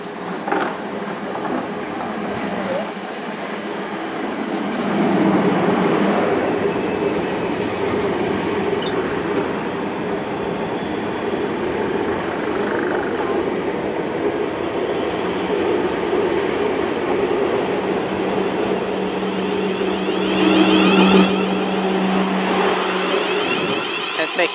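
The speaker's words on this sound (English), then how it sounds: "It's the motor of a Desiro." A South Western Class 444 Desiro electric train departs, its motor whining and rising over a constant rolling rumble as it gathers speed, with a tonal hum building late in the clip.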